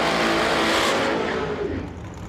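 A dragster at an ACE Triple 20K drag racing event roars loudly off the start line, a dense, sustained engine blast that holds near and strong before easing slightly as the car pulls away.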